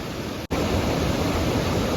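Water flowing near Hogenakkal falls in India, a loud steady broadband rush that fills the whole stretch apart from a brief dropout near the start.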